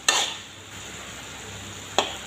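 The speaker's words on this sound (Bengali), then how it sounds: "ভালো করে নেড়ে চেড়ে দিচ্ছি।" Leafy greens stirred in a pan over low heat, a soft background sizzle broken by two sharp metallic clinks of a utensil against the pan, near and fairly quiet.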